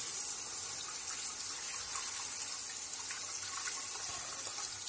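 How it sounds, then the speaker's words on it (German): Cold tap water runs steadily over a soup chicken being washed in a kitchen sink, a continuous close hiss and splash with faint irregular patter and no talking. "Natürlich erstmal mit kaltem Wasser abwaschen, versteht sich."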